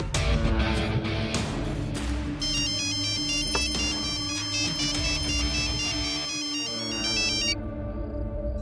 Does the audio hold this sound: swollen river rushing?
no